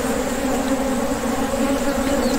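Dense, steady buzzing of many honeybees at an opened hive during an inspection of brood combs, a continuous close swarm hum with no voices over it.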